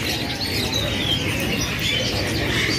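AFS series canaries chirp and trill at a kiosk in Pramuka bird market, a dense wash of small bird calls over steady market background noise.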